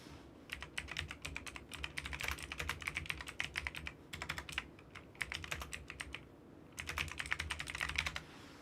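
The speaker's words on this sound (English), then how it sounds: "Hopefully you guys can hear me typing away" A computer keyboard clatters in fast, uneven runs of keystrokes broken by brief gaps, close up over a steady low hum, with no voices.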